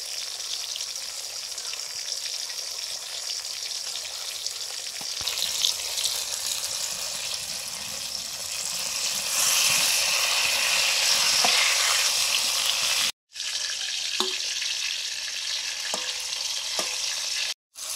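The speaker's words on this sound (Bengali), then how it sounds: "জল দিয়ে দিলাম।" Water poured into a frying pan of cauliflower during a home cooking session for cauliflower and potato khichuri, a steady sizzle and splashing gush that swells briefly midway, then continues with a short break near the end.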